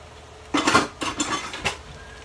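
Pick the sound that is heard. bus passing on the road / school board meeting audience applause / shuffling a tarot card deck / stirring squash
stirring squash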